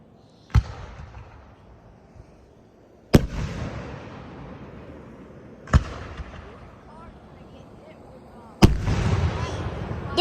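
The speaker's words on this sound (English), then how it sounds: "Fireworks are so pretty, but they can really hurt your ears." A large fireworks show at local fairgrounds, with four loud, booming bursts spaced a few seconds apart, each followed by a long rumbling, crackling tail that fades before the next blast.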